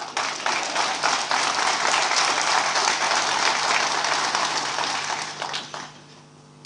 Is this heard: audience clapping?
yes